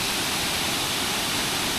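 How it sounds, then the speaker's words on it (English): Dangar Falls near Dorrigo roars as a steady broadband rush of falling water, dense and unbroken throughout, with no voices. "So there you go, Dangar Falls, Dorrigo."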